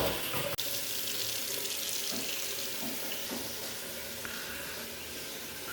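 Water gushes steadily through freshly plumbed bathroom pipes just after the supply is opened at the manifold, a constant broadband hiss like a running tap with a sharp click near the start and no talking.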